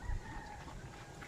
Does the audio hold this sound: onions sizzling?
no